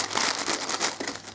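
A sponge left inside a plastic bag crinkles in a series of quick, close, rustling bursts, loud and busy from start to finish with no talk, used to pattern Artex on a water-damaged ceiling.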